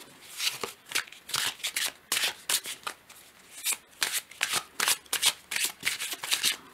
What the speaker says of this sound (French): Donc je vais tirer 3 cartes.